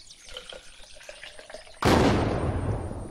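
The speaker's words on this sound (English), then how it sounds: "What was that explosion?" In a video game, a bus explodes with a sudden loud blast after a stretch of quieter scattered sounds, then a long roaring rumble fades slowly.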